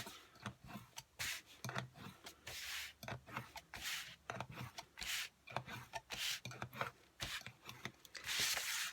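Repeated scraping strokes of a tool scoring paper along the grooves of a gift bag punch board, each pass a short rasping rub in an uneven rhythm, close and quiet with no talking.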